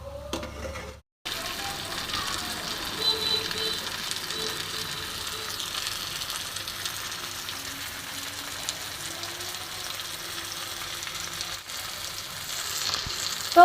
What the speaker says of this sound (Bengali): আমার সবজি আর চিকেন একসাথে মশলার সাথে মিশিয়ে নিলাম।